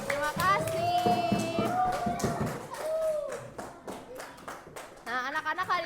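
Children in a classroom clap together amid chatter and teacher talk, with scattered hand taps and thumps rising over several seconds before a voice speaks again near the end.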